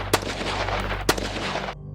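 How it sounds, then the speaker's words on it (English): Two sharp, loud gunshots about a second apart crack over a steady low rumble in a horror audio drama, fired at a car and shattering its windshield, with the rumble cutting off near the end. "reply came in the form of gunshots"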